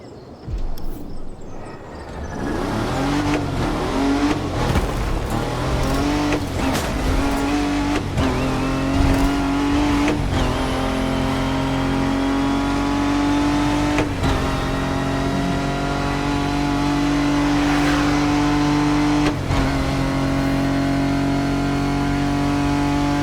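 Racing cars in The Crew Motorfest, a vintage showdown spanning four decades, with engines revving loudly and steadily climbing through gears, several sharp shifts and bursts cutting through a constant close motor drone.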